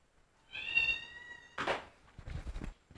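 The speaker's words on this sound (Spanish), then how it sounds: "Escucha que ella maullando" A single drawn-out cat meow, close and clear, then a few soft rustling noises in a quiet room.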